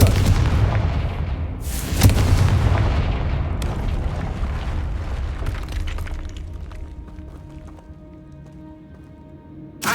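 Confringo fire-spell blasts in the Hogwarts Legacy video game burst out as heavy booming explosions, two strong hits early on, then a rumbling decay with scattered crackling debris.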